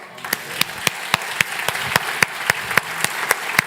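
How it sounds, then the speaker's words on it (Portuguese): A church congregation claps in a steady, rhythmic beat, with sharp, regular claps about every quarter second over a soft room wash. "Vamos aplaudir o Senhor?"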